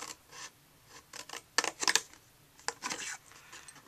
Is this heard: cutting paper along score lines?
yes